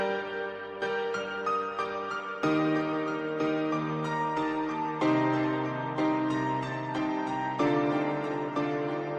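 A simple reggaeton melody with chords plays steadily throughout, its bright synth tones smeared by EQ, echoing delay and roomy reverb, with no voices.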